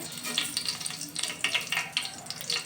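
Mustard seeds and cumin crackling and sizzling in hot oil for a ridge gourd sambar tempering, a steady close fry with sharp popping bursts throughout.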